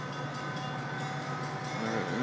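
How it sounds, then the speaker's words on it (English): A loud train rumbles past close by, a steady roar of rail noise with no voices. "Goddamn train's loud as shit."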